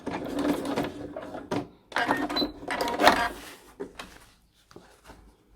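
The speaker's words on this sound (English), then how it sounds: "And do the back stitch." A sewing machine back stitching a pillow case, running in short bursts of rapid mechanical clatter separated by brief pauses, close and fairly loud.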